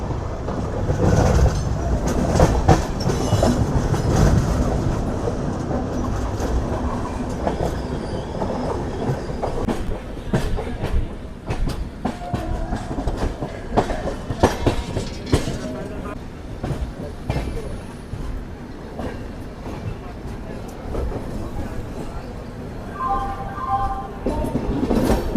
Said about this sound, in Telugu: సైడ్గా చూసుకుని మనకు వచ్చేసి పూరి తిరుపతి ఎక్స్ప్రెస్ అయితే వెళ్తుంది